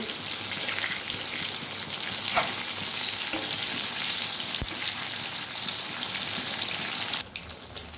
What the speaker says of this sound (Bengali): এইভাবে উল্টে পাল্টে এটাকে ভেজে নিতে হবে।